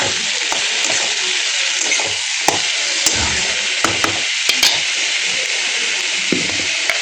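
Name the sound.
eggplant and tomato frying and being stirred in pan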